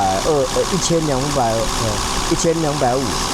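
A Mercedes W126 280SEL, freshly repaired after a faulty fuel distributor, idles steadily at 1250 rpm with a low, even hum beneath a man's continuous speech.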